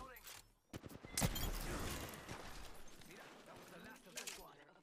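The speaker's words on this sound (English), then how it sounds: "This guy's shooting at his teammate." Gunfire in a battle royale video game, rapid shots and a bursting fusillade in the mix along with game effects, heard under a player's excited talking.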